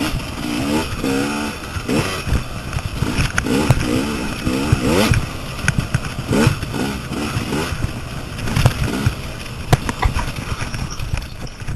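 An enduro dirt bike engine runs loud and close, its revs rising and falling in choppy bursts across the whole stretch at a riding event.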